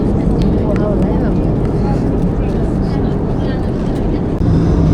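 Steady, loud roar of a Nepal Airlines airplane cabin on a flight to Japan, a continuous low drone filling the whole clip, with faint voices murmuring underneath.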